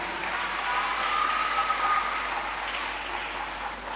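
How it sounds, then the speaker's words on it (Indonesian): Applause from an audience at a Muhammadiyah anniversary tribute event, a soft, continuous patter of many hands, fairly distant and even, swelling slightly midway then easing. "Tepuk tangan untuk kita semua."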